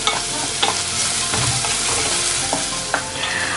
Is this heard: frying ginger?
yes